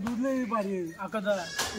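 Goats bleat repeatedly at a livestock sale, wavering calls overlapping one another up close, with people talking in the background.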